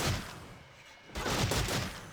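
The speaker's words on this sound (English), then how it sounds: "let me show you how fast you can shoot it without canceling." Ranger skill shots in the game Black Desert fired rapidly one after another without canceling, a fairly quiet steady run of shooting effects with no talking.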